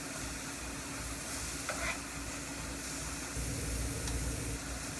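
Steak with peppers and onions frying in a pan for Philly cheesesteak, giving a steady close sizzle with occasional stirring scrapes and a louder burst near the end, no voices.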